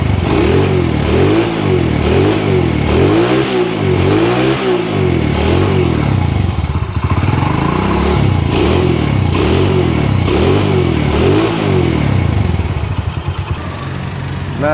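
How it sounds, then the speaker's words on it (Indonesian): Four-stroke motorcycle engine fires on a single kick start and settles into a loud, close, steady pulsing idle with no talk over it. "sekali engkol langsung nyala ya motornya ya."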